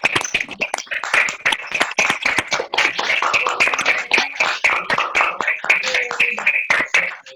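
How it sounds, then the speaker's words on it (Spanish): Scattered clapping comes from a few participants in an online glaucoma webinar with open microphones, uneven individual claps over roughly seven seconds, mixed with voices speaking and thanking. "un gran aplauso"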